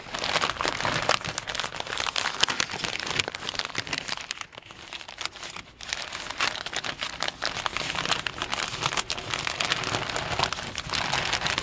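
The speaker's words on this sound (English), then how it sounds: "I just roll it up in a piece of paper." Black match fuse being rolled up in a sheet of paper, a continuous dense crinkling and rustling of paper close to the microphone with a brief quieter pause midway, no voices.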